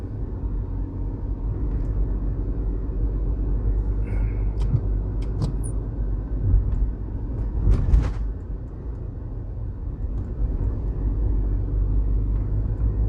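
Steady interior rumble of a car driving along the road through Bog Walk Gorge in Jamaica, a continuous low engine and tyre drone with a few brief bumps and rattles.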